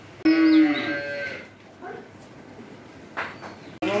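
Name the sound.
Jersey dairy cow mooing on farm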